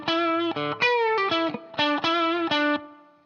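Electric guitar with distortion plays the higher octave part of the riff, a quick rhythmic run of bent, staccato notes, loud and close, alone, ending on a ringing decay.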